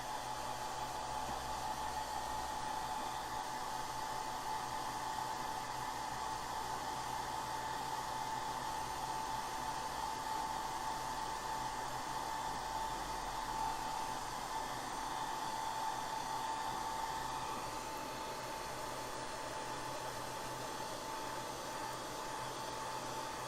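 A hair dryer blows steadily at close range, drying cake decorating work, a constant whooshing airflow with a fixed whine that dips slightly in pitch near the end, no talking.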